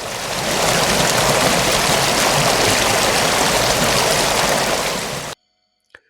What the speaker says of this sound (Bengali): মুহূর্তের মধ্যে চারপাশের পানি অস্বাভাবিকভাবে ঘূর্ণি দিতে শুরু করে